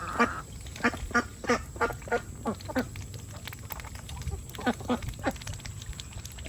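Ducks on a farm quack in a steady run of short, close, fairly loud calls repeated about every half second over low outdoor rumble.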